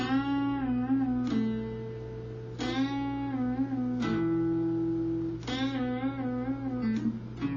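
A guitar picks out a song riff with plucks and pull-offs, clear sustained notes changing every second or so, close and alone without talk.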